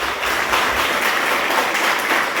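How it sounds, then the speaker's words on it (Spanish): Congregation applauding at a Pentecost vigil, a steady wash of many hands clapping throughout, fairly loud and even, with no clear talking. "Le pongo un fuerte aplauso al Espíritu Santo, con todas las cosas."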